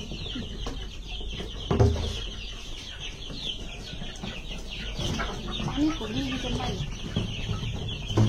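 Domestic village chickens, some drowsy and unwell, cluck and call repeatedly at close range during feeding, with a rooster-like call and scattered clucks over a steady farmyard background.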